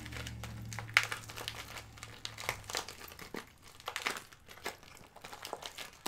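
Clear vinyl pouch crinkling and crackling in close, irregular bursts as it is turned right side out through an open zipper, with a low hum underneath during the first seconds.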